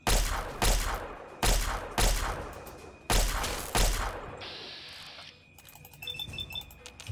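Gunfire in Fallout 3: several loud, sharp shots in quick bursts, close and punchy, each trailing off briefly, followed by quieter clinks and movement sounds with no talking.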